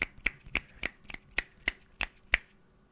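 Finger snapping during a church sermon, about nine crisp, sharp snaps in a steady, even rhythm, close and clear with no talking over them.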